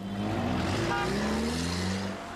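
A souped-up BMW car drives past with a loud, steady engine tone that climbs in pitch as it accelerates, heard close by and with no talking.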